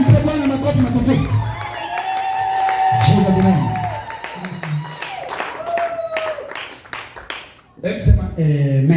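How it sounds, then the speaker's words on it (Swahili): A church congregation at a Thursday service claps and cheers in a burst of applause, with whoops, while a preacher's amplified voice talks and prays over and between the clapping. "Mpe Bwana makofi matukufu."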